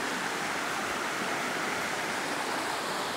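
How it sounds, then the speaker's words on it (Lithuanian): A fast-flowing river in New Zealand rushes in a steady, dense roar of broadband water noise, close and continuous without voices. "O, srauni upė."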